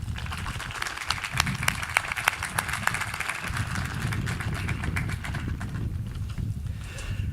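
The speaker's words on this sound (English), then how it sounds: "Students, let's give them a round of applause." Audience at a 2022 high school commencement applauds the faculty, producing a steady, dense wash of clapping from a large crowd that holds at an even level for several seconds.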